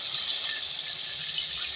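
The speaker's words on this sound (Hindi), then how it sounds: "अब इसमें पानी ऐड करेंगे कि आलू कुक हो जाए हमारी।" Water is poured into a pot of fried beef and potato curry, a steady close gush and splash of liquid filling the pot without pause.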